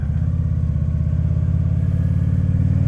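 A motorcycle cruises along rural county side roads, its engine giving a steady, close, low droning rumble that holds without a break from start to finish, with no talking.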